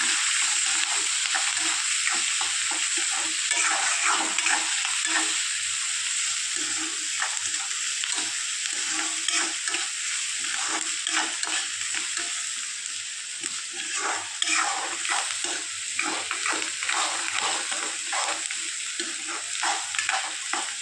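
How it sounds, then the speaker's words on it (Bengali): Sliced onion with whole cumin fries in hot oil in a pan, a continuous close sizzle broken by repeated scraping and stirring strokes throughout, no voices. "তো পেঁয়াজটাকে আমি ভালো করে নাড়াচাড়া করে নিই।"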